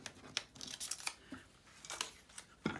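Scissors snip through paper while pieces are cut for a collage, a series of quiet, close crisp cuts in uneven bursts, ending with one firmer snip, no talk.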